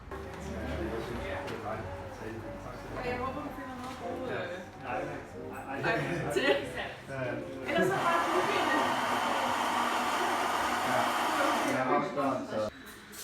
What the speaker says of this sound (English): The roasting machine is here.